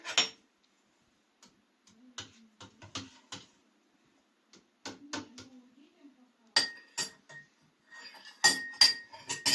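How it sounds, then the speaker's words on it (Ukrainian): Light clinking of a spoon stirring water in a glass, in scattered bursts with pauses, growing busier and brighter toward the end; close and fairly quiet. "І це все змішати, помішати."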